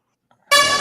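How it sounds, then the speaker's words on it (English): A train horn sound effect blasts suddenly after a short silence, a loud sustained harmonic tone cutting in abruptly and holding steady to the end. "How about scaring people with train horns?"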